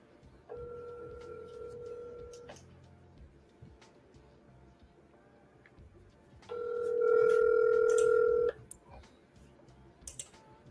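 A telephone rings back on an outgoing call, with two long tonal rings separated by a pause and faint clicks around them.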